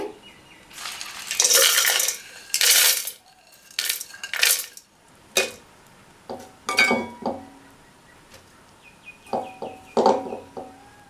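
Ingredients for tomato chutney clatter into a mixer jar, with metal spoon scrapes, taps and clinks against the container in an irregular series of bursts, close up.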